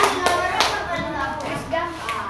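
Schoolchildren in an elementary social studies class clap for a group of classmates, a short burst of hand claps mixed with children's voices talking over it.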